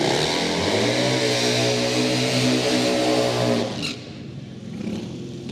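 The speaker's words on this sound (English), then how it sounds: "1700 cc's of blown Westlake twin, and he's up against another twin engine machine" Loud twin-cylinder drag bikes, a blown 1700 cc Westlake twin against an unblown Norton twin, roar at full throttle for about four seconds with strong engine harmonics, then cut away to a fainter rumble.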